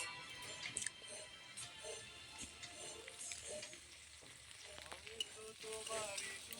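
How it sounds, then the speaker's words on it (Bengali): Chopped tomatoes fry with onion and garlic in a pan, a quiet, continuous crackling sizzle with occasional stirring scrapes, heard up close and alone. "টমেটো দিয়ে আবারও ভালোভাবে মিশিয়ে নিচ্ছি।"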